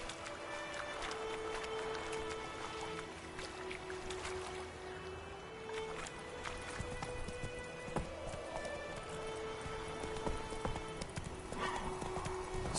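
Hooves clip-clop at a steady gallop rhythm as a horse runs in The Witcher 3 video game, close and continuous, with a whinny and soft ambient game music underneath.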